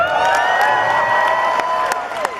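A large fan convention crowd at Fan Expo in Vancouver cheers, whoops and claps continuously. Loud, dense shouting with rising yells is spread over steady applause.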